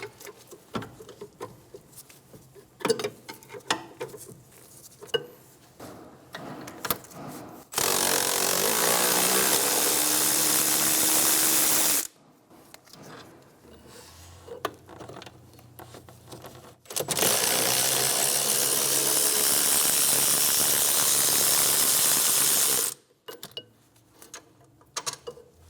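Power tool loosening 19mm rear brake caliper bolts on a 2003–2007 Infiniti G35 during wheel bearing and hub replacement: two loud, sustained bursts of a few seconds each, close up, with quieter shop clatter between them and no talk.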